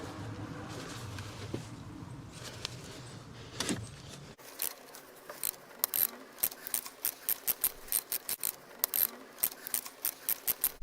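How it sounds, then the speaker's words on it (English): Half-inch ratchet working a socket on a BMW during home maintenance: after a few seconds of low rumble, a run of sharp, close clicking bursts in an uneven rhythm, each ratchet stroke distinct against a quiet background. "I'm going to take my 1/2 inch ratchet"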